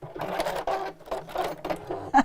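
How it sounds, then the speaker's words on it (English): A sewing machine quilts along marked lines at a lengthened stitch, running in several short bursts of rapid stitching with brief pauses between, close and clear. "I'm going to lengthen the stitch, so I'm going up to 3 because we're only quilting, and literally sew along all of the lines"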